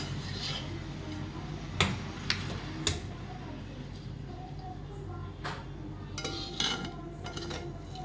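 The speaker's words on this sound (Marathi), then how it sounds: "आता आपण सर्विंग प्लेटमध्ये सर्व करून घेऊया" Boiled-egg dish being served onto a serving plate, with a handful of sharp spoon taps and clinks against the dish over a low steady room hum, close and fairly quiet.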